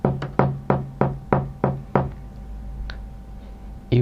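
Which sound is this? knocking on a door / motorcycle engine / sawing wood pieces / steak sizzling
knocking on a door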